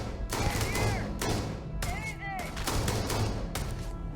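Gunfire rattles in a Starfield firefight, with several bursts of sharp shots at roughly one-second intervals, loud and close, mixed with whining tonal effects between the volleys.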